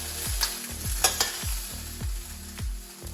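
Aubergine pieces sizzle and fry in a pan while being stirred, with rhythmic scraping strokes of the utensil repeating about every half second over a steady crackle.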